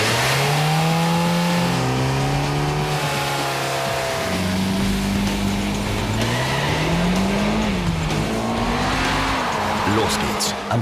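A Mitsubishi Lancer Evolution X launches from a standing start, its engine climbing loudly through rising revs with clear gear changes and a brief tire squeal, up close and continuous.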